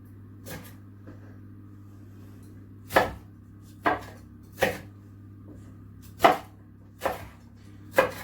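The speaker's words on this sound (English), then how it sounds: "take the core out, and chop them into nice big chunks" A knife chops bell pepper on a board in slow, separate strokes, about seven crisp thuds spaced roughly a second apart over a low steady hum.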